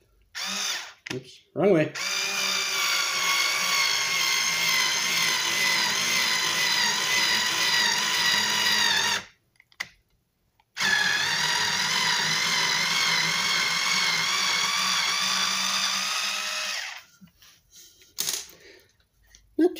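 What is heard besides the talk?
Craftsman CMHT6650C cordless screwdriver driving into a 2x4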